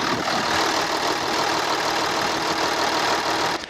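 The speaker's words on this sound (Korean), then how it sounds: "엔진 소리 한번 들려드릴게요" A steady, loud V6 diesel engine of a Hyundai Veracruz idles close by with a constant rumble, then the sound drops off abruptly near the end.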